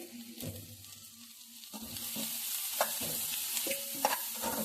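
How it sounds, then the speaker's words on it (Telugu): Sliced onions sizzle in a pan for an okra curry, with repeated scraping stirs and spatula clatter over a steady frying hiss. "ఇక్కడైతే వీటన్నింటినీ మనము ఫ్రై చేసుకోవాలి కొద్దిగా సాల్ట్ యాడ్ చేస్తున్నాను"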